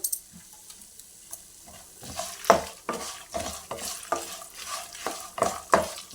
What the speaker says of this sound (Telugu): ఐదారు వెల్లుల్లి రెబ్బలు వేసుకున్నానండి ఇవన్నీ మంచిగా వేయించుకోవాలి